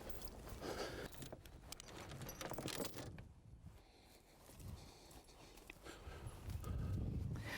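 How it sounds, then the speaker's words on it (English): Draft horses on a hay ranch drag a 4-ton haystack onto a sled, with hoof clomps, chain and equipment noise, and shuffling movement rising and falling continuously outdoors at moderate loudness. "The horses pull the 4-ton stack onto the sled."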